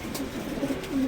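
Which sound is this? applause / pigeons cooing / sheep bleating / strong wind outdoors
pigeons cooing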